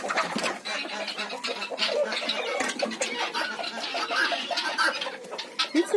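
A gander honks and cackles loudly and continuously close by in a village, with raspy excited calls running together.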